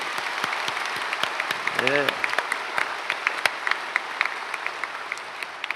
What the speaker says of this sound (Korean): 여러 나라, 많은 나라에서 오신 지도자들에게 사랑과 감사 박수하겠습니다.